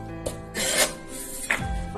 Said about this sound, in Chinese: 再切点姜粒